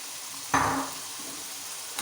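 Beaten eggs hit hot frying masala for egg khagina with a sudden, close sizzle that bursts loudly and then eases into a softer hiss, with a light stir near the end.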